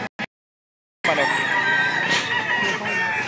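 A rooster crows loudly and close at a gamecock sale in Lipa, Batangas, a long strained call after a brief silence, with faint clucking and murmured background noise.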